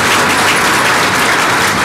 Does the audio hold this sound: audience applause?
yes